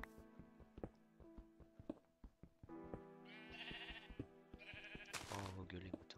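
Sheep bleat repeatedly in a video game, several wavering calls rising over game sounds while someone talks over them.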